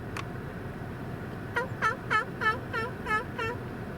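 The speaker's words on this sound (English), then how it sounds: "At least the pet turkeys want to play. we found a turkey." A pet turkey gobbles in a rapid run of about seven rattling bursts, fairly close, with outdoor background noise underneath.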